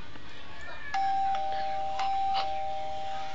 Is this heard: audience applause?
no